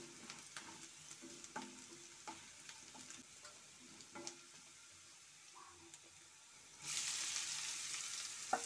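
Spices fry in a pan for a sweet mango curry. A faint crackle carries scattered small clicks, then a sudden louder rush of sizzling near the end.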